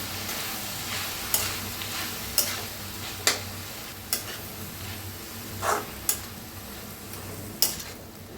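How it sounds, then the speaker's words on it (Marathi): A drumstick leaf stir-fry seasoned with salt is stirred in a pan over a low, steady sizzle, with about ten sharp spatula taps and scrapes against the metal at irregular intervals, close up and without talking. "चवीप्रमाणे मीठ टाकूया। मिक्स करूया।"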